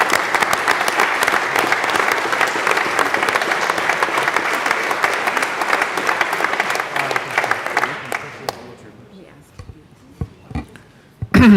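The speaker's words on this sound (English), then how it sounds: "All of our Capitol Service folks deserve a huge round of applause" Legislators in the Colorado House chamber give Capitol Service staff a long, loud round of applause. The dense clapping holds for about eight seconds, then thins out to scattered claps and room noise.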